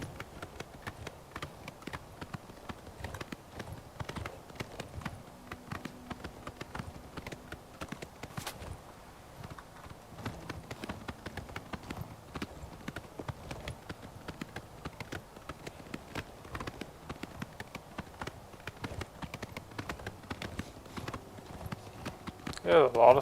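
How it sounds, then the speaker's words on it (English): An armored horse gallops in Oblivion Remastered, its hooves clip-clopping in a steady rapid rhythm throughout, fairly quiet, with faint game ambience and a brief louder sound at the end. "Start running my horse with the armor on."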